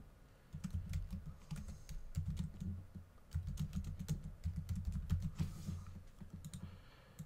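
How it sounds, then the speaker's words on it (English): Typing on a computer keyboard, a steady close run of light clicking keystrokes in bursts with short pauses, no voice present. "So I can go ahead and click anywhere and type some text."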